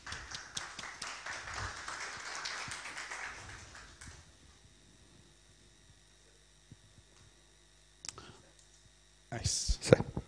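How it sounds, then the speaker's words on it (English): Dense clapping from a conference audience at the GameX 2022 B2B event fills the first few seconds, then fades into quiet room tone, with a few brief knocks and a short burst of voices near the end. "please, we applaud"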